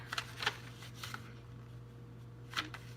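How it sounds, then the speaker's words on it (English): Paper being folded up to form a pocket for a handmade moon fairy folio lapbook journal, with soft crinkles and a few crisp rustling bursts over a low steady hum, no talking. "I'm actually going to create a pocket by folding up right about there"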